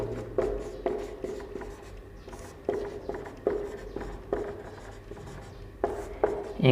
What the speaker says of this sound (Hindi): आइए तो लिखेंगे गणितीय समुच्चय